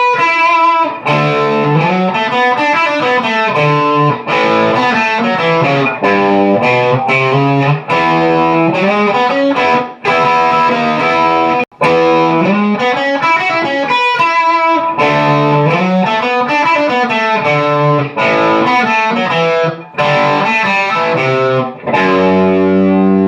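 A distorted electric guitar plays the lead intro of a song, a fast run of picked notes and bends in repeating phrases with brief gaps, loud and close, with no other instruments.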